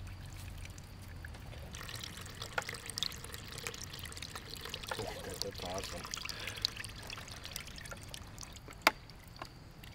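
Squeezed apple juice pressed from city apples pours in a steady trickling stream into a container, a continuous wet splashing with a few sharper clinks, fairly quiet and close.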